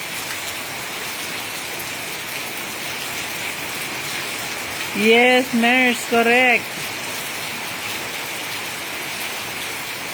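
Light morning rain gives a steady, even hiss throughout, with a short burst of a person talking partway through.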